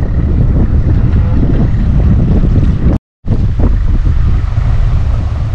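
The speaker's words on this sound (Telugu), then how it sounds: "గాలి అయితే ఫుల్గా వస్తుంది." Strong wind blows across a village farm field during rice seed sowing, a loud continuous buffeting roar on the microphone that briefly cuts out mid-way, with no voices.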